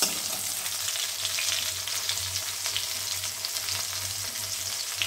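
Fish frying in hot, spattering oil makes a steady, close broadband sizzle that runs unbroken and fairly loud throughout, with a faint low hum underneath and no voices.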